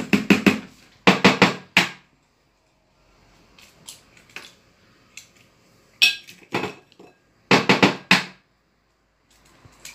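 Three eggs cracked into a salad bowl for a chocolate fondant, heard as clusters of sharp clinks and taps of shell against the bowl rim, with quieter dripping and shell handling in between, close up.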